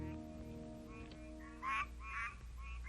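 Tree frogs call in short bursts at night over a low steady hum, a few rasping croaks repeating at a moderate distance in a New Jersey wetland breeding site.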